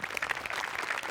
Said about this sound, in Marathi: त्या वाक्यांसाठी विनायकसाठी एकदा टाळ्या वाजल्या पाहिजेत.